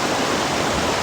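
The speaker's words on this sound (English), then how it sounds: "Behind us is the waterfall." A snowmelt-fed waterfall beside the Mt Whitney trail in June gives a steady, close, full roar of rushing water, brief and unbroken.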